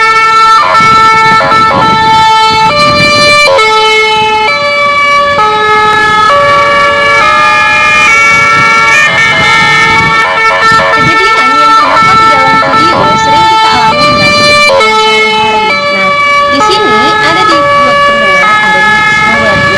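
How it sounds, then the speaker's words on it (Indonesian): A loud ambulance siren wails continuously, its alternating tones shifting in pitch with the Doppler effect as the ambulance passes nearby with traffic noise underneath. "sumber itu adalah ambulans. Nah, dan mereka pasti mendengar sirine"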